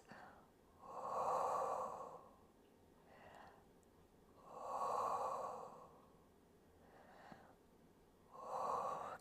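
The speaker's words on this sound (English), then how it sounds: "And take some deep breaths." Slow, deep breaths during a Pilates stretch, three long airy inhale-exhale swells spaced a few seconds apart, close and quiet with soft pauses between.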